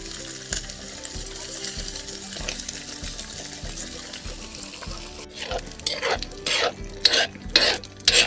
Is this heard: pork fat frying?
yes